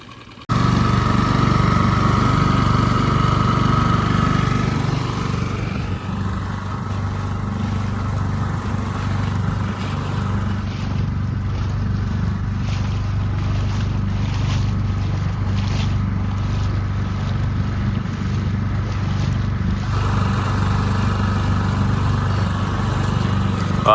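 A small Tohatsu 6HP outboard motor on an inflatable fishing boat drones steadily throughout, a buzzy continuous hum with slight shifts in pitch as it chugs along at low speed.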